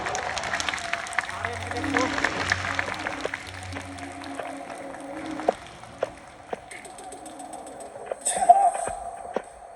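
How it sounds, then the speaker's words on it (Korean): Audience applause at the grand prize ceremony of a cosplay festival at Play X Po 2022, a moderate patter of clapping that gradually thins to sparse claps, with some brief voices and noise near the end. "따뜻한 박수를 부탁드립니다"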